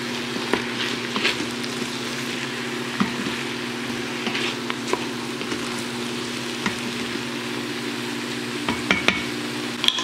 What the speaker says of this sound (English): So now I'll mix that around.